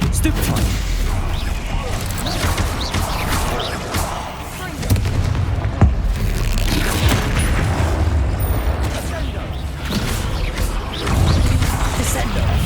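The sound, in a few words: Bombarda explosion spells and combat in video game Hogwarts Legacy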